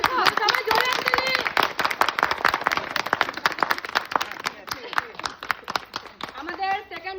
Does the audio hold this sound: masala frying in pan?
no